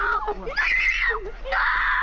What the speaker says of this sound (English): Those screams are rough.